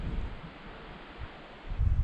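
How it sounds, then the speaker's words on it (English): Steady wind buffeting the microphone on a moose hunt, a low rumbling roar with gusts swelling louder near the end, no voices. "It's very windy,"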